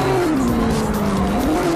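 Tyres squeal in a continuous loud skid as a drift car slides in CarX Drift Racing Online, with the engine droning steadily underneath and no talk over it.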